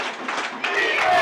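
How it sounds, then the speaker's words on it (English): High school football crowd at Robinson chanting defense at their team during a 2010 game against Malvern, a dense roar of voices swelling near the end, with an announcer talking over it. "The Robertson crowd chanting defense at their team"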